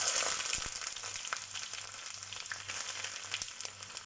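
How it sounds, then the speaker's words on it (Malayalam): Sliced ginger sizzles in a quarter cup of hot coconut oil, a close, steady crackling fry with a few sharper pops, softening slightly toward the end. "ഇഞ്ചി ഇട്ട് നന്നായി ഫ്രൈ ചെയ്തെടുക്കണം."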